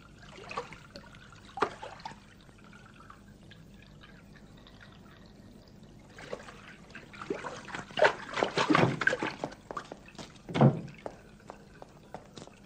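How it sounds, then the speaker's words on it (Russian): Water sloshing and pouring out of a bathtub, faint splashes and trickles at first, then a louder burst of splashing and pouring around the middle and near the end, in a quiet room. "Зачем ты воду выливал?"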